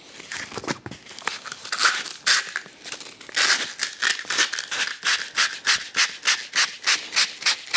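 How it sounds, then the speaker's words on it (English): Sandpaper rubbed by hand over a wooden block for a woodworking bench stop, a close, steady run of rhythmic scratchy strokes that quicken into even back-and-forth passes. "A little bit of sandpaper."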